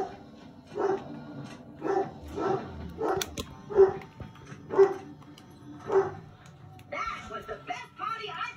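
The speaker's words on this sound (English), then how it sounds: "ignore the dog, guys" A dog barks repeatedly indoors, with sharp barks about once a second and a voice talking over and between them, followed by a short stretch of busier background noise.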